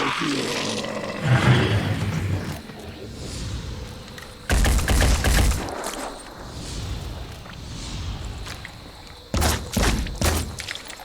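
Gunfire in the video game Phoenix Point aimed at an enemy's leg: a few loud, sharp bursts of shots ring out separately, set against a low rumbling game soundtrack.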